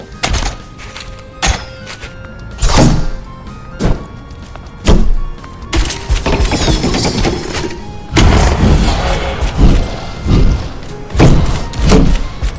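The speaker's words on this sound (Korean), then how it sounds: "이거 진짜 있는 거 플라스틱 장난감으로 후려친다는 느낌 나네" Genji's bat-skin melee strikes in Overwatch 2, a hollow plastic-toy smack repeated about a dozen times in uneven bursts, each a sharp, close thunk with short game effects in between and no speech.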